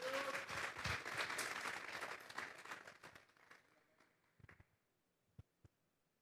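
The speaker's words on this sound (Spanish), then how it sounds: "Vamos a darle un fuerte aplauso pues al Señor esta tarde." Congregation at a church service claps in a loud, dense burst of applause that gradually thins and dies away, leaving a few scattered final claps.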